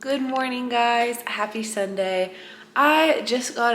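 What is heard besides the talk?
None of the usual background noises is heard.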